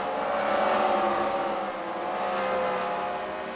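Small race cars battle for the top spot at the Freedom Factory, a checker car and a wrecker car among them, their engines droning and revving steadily at mid distance with no pause in the noise.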